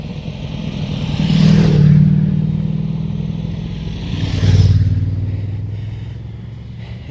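Motorcycles on Hard Knott Pass in the English Lake District, two loud passes of revving engines that swell and fade as the bikes climb past, with quieter engine drone between them.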